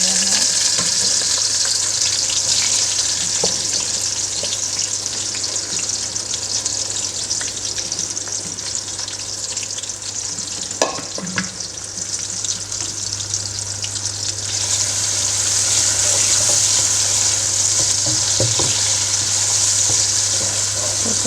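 Chopped onions sizzle loudly in half a cup of hot oil for chicken pulao, a steady close hiss with occasional stirring clinks and a faint running tap.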